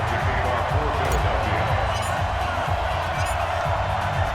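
Raucous stadium crowd in Madden NFL 20 at a Cardinals versus Eagles football game before kickoff, a continuous loud roar of cheering and babble with rhythmic thumps underneath.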